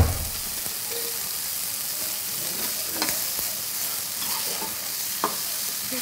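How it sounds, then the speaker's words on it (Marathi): Prawns and Bombay duck frying in shallow oil give off a steady, close sizzle throughout, with a few faint pops and utensil clicks and no talking. "ही कोळंबी फ्राय आहे आणि हे बोंबील फ्राय आहे"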